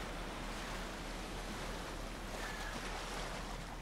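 Ocean waves in the video game Ghost of Tsushima: Director's Cut wash continuously against the shore, a steady broadband surf roar with wind, no voices.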